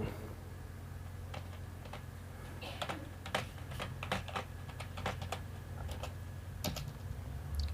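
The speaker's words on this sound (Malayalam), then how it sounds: "ഇതിൻ്റെ എമൗണ്ടും അതേപോലെ കാൽക്കുലേറ്ററിൽ നോക്കി ടൈപ്പ് ചെയ്യുക." Quiet computer keyboard typing while entering figures in Tally ERP 9 accounting software: irregular soft clicks and short bursts of keystrokes over a low steady hum, with no talking.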